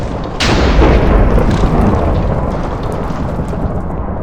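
Lightning strike from the lightning orb in the Minecraft Elemental Orbs mod, a sudden loud crack followed by a sustained rumbling, rain-like wash that continues for several seconds with no talking.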